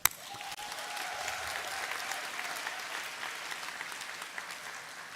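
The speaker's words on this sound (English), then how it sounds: "Let's clap for them." An audience at a graduation ceremony breaks into steady applause for graduating students, faculty and parents, a dense even wash of clapping from a large crowd that holds at a constant moderate level throughout.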